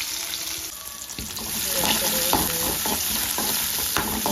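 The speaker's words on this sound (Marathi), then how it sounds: "कढईत तेल तापवून घेऊया. त्यात टाकूया आपलं कांदो" Sliced onion sizzles in hot oil in a kadhai, a loud, dense frying hiss that swells as the onion goes in, with repeated clinks and scrapes of stirring and faint speech in the background.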